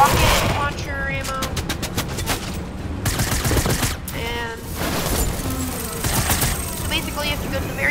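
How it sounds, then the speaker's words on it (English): Rapid video game gunfire from a rocket launcher during a fight against the Inquisitor, a dense run of repeated shots and blasts layered with game music and effects, with a voice talking over it at times. "Yeah, you shoot rocket launcher ammo."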